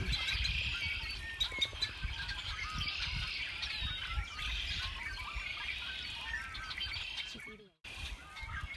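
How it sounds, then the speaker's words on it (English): Many birds chirp and call continuously in the background, with trilling red-winged blackbird songs in a busy outdoor chorus; low rumbling noise sits underneath. "Now I'm hearing lots of birds right now in the background. As I said earlier, most of them are red-winged blackbirds."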